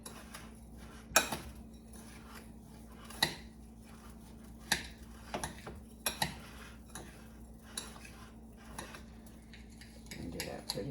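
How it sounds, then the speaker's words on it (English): A spoon mixes 4 tablespoons of melted butter into batter in a bowl, giving quiet, irregular clinks and taps against the bowl scattered across the stretch with soft scraping between. "Put in our 4 tablespoons of melted butter. Okay, and we're just going to mix this up."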